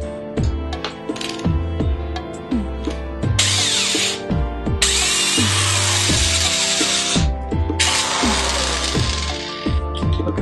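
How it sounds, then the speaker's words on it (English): A power drill whirs in short bursts, boring a hole in a bike reflector bracket, with longer high-pitched grinding spells between, while metal pieces clink and ring underneath. "that's where the drill comes into play"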